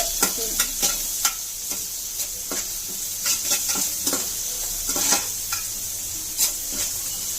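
Onions fry in a pan for a bochu fish curry, a loud, continuous sizzle punctuated by regular spatula strokes scraping and tapping against the pan, close up with no talking.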